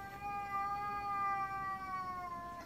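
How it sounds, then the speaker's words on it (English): A hostile cat on a stairway yowls in one long, steady, drawn-out tone that holds for nearly three seconds, close and fairly loud, with no talking over it. "That cat was hissing at him."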